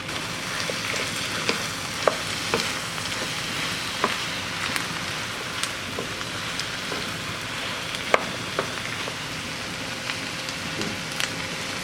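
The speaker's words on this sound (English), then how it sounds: "To this, I'm going to sprinkle 3 tablespoons of flour and then mix that in." Flour is stirred into sautéed onions and potatoes in a soup pot, giving a soft sizzle broken by scattered scraping and clinking strokes, close by and with no talk.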